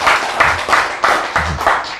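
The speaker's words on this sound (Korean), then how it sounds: "박수." A church congregation claps during a sermon on tithing, about six even, rhythmic claps spread over two seconds, close and fairly loud with no talking.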